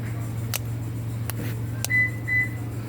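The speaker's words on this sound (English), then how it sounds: "You can hear the beep." Two short, steady electronic beeps sound close by as a Toyota Sienna remote key is programmed, following a few faint clicks over a constant low hum.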